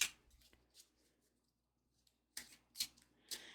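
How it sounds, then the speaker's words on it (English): Soft papery riffling bursts of cards being shuffled, a few quick flurries separated by quiet gaps, close and fairly faint. "Shuffle each one."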